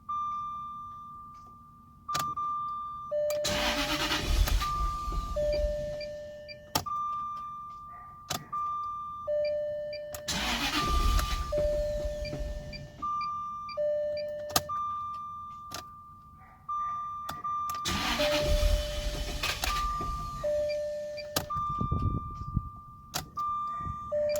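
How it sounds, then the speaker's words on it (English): A Jaguar engine is cranked repeatedly without staying running: three long bursts of starter grinding, each framed by chimes and beeps from the dash, with short pauses between. "I keep giving it cranks."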